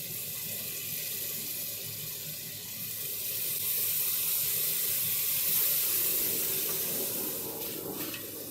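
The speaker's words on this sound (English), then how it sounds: "I'm going to do a little draining on the grill" Liquid draining from a meatloaf pan on an outdoor grill, a steady close hiss of pouring and splashing with a sizzling wash that swells slightly partway through and carries on without pause.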